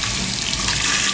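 Water runs steadily from a tap at a newly built house's outlet, a close, continuous rushing splash with no pauses.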